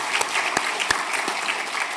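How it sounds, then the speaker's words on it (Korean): Church congregation applauding during an infant baptism service, a steady wash of clapping from a crowd filling the room, fairly loud and continuous with a few sharper claps standing out. "크게 박수로 이들을 축복하며 격려하겠습니다."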